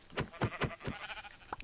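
Sheep bleating in the video game Minecraft: several rapid wavering bleats in quick succession, loud and close, trailing into fainter game sounds.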